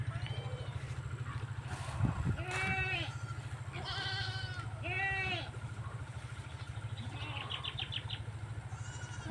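Goats on a farm bleat several times in short wavering calls, fairly close, over a constant low engine hum in the background.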